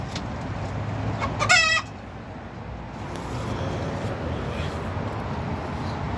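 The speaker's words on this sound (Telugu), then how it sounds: "సో అలాగే ఇక్కడ చూడండి నాటుకోళ్ళు." Native country chickens in a Kuwaiti garden: one loud rooster crow rises near the start, followed by faint scattered clucking over a constant outdoor hum, with nobody speaking.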